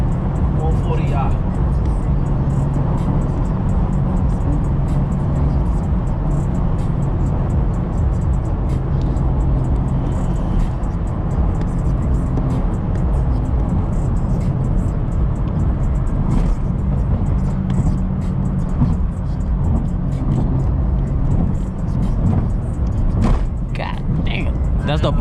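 A BMW F36 140i drives through New York City streets, its engine and road noise rumbling steadily under busy traffic sounds while people talk inside the car throughout.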